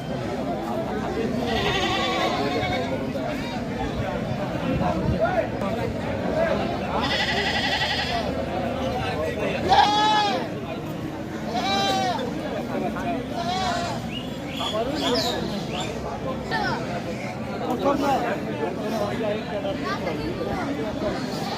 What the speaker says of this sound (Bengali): আমাদের সামনে যেটা আছে এটা কি জাতের ছাগল